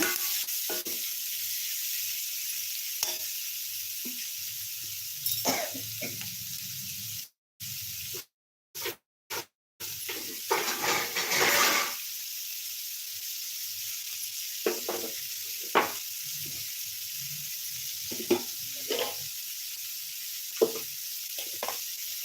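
Tomatoes frying in a pan for a dry fish gravy, giving a continuous close sizzle and hiss with scraping, stirring rubs and several short dropouts partway through.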